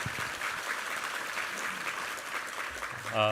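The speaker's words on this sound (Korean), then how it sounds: "우리 하나님께 감사와 영광의 박수 올려드리겠습니다." During a Sunday worship service, a congregation breaks into a full, sustained round of applause, steady and moderately distant, and a voice starts speaking as it tapers off.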